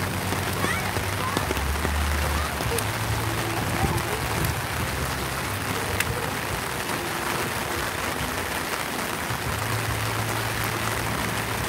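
Steady rain pattering on a surface in Presidente Prudente, Brazil, a dense continuous hiss with scattered drips, even and fairly loud throughout with no voices.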